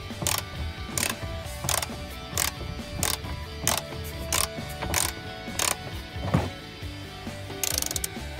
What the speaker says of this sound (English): The bolts are 17mm and quite easy to remove.